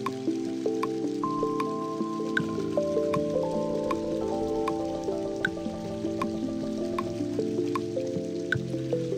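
Lofi beat built in Ableton Live with a looped stream water sample: bright, regular dripping and trickling water sounds over sustained mellow chords, moderately loud, with no voices.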